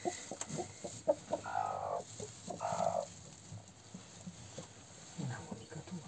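A broody hen being settled onto goose eggs gives soft, low clucks in a couple of short bursts, with quiet talk and handling noise around her.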